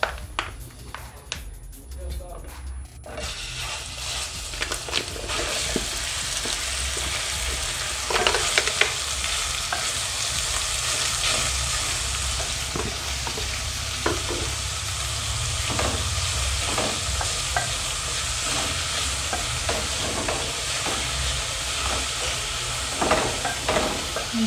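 Minced beef sizzles and fries steadily in hot cooking oil in a sufuria, a dense continuous crackle with scattered spatters and occasional stirring scrapes throughout.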